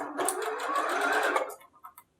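A sewing machine stitches through the fabric of a scrunchie in a quick, close, steady whirring run that stops abruptly, followed by a few faint clicks as it settles.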